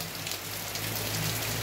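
Heavy rain pours steadily in a rural village setting in Ceará, a dense continuous hiss of drops on surfaces close by, loud and unbroken with no talk.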